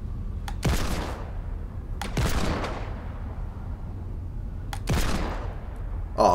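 Three separate gunshots from a weapon in the video game Fortnite ring out at intervals, each a sharp crack with a short decaying tail over a low game background hum.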